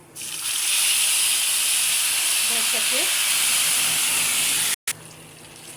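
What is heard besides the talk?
water poured over frying vermicelli, hissing steam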